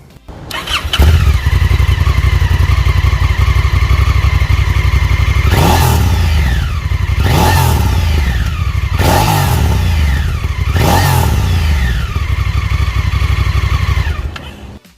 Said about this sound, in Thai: มาครับเดี๋ยวลองฟังเสียงท่อกันดูนะครับ